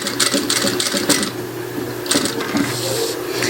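A sewing machine stitches a seam on a cosmetic pouch in rapid mechanical bursts, close and clear, with a short pause between runs of stitching and no talk.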